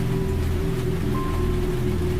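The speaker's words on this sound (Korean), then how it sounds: "그저 바람소리와 빗소리만 울렸다." Steady wind and rain, used as an effect in a horror story narration: a loud, continuous rumbling wash with a low droning hum beneath, no voices.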